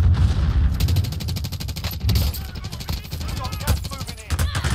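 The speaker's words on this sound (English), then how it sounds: "We're getting shot at from behind." Rapid automatic gunfire rattles in the Warzone video game, with dense bursts of sharp shots firing close and loud in near-continuous volleys while players talk over the shooting.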